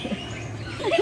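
Birds call in the bird park at Taman Mini, Indonesia, with short chirps and warbling notes near the end over a low background murmur.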